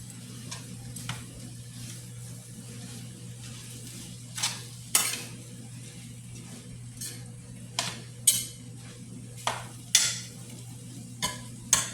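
Large shrimp tossed into a pan for sautéed jackfruit with coconut milk, clattering and scraping as they are stirred, with a few sharp metallic knocks of a utensil against the pan over a steady low cooking hum.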